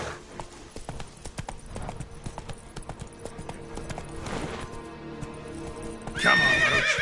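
Roach, a horse in a PS4 video game, gallops with rapid rhythmic clip-clop hoofbeats and then lets out a loud, close whinny near the end.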